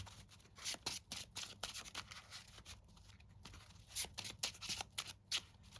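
Yu-Gi-Oh! playing cards are shuffled close up in quick repeated bursts of riffling and sliding, with short pauses between shuffles.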